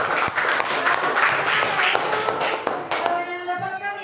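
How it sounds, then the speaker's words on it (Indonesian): Classroom of Indonesian schoolchildren clapping together, a steady rapid patter of many small hands that fades out near the end as a voice begins speaking. "Coba tepuk tangan dulu."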